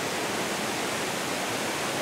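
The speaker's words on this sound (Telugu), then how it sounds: "ఎలా ఉంది వరాచల్ వాటర్ ఫాల్స్?" Vazhachal waterfall in Kerala rushing down, a loud, continuous, even roar of falling water close by, with no voices.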